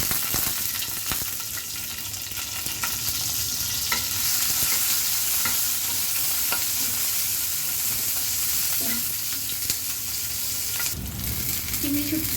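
Chopped onion and green chili sizzle and fry in hot oil in a pan, a steady crackling hiss with occasional stirring scrapes and clinks near the end.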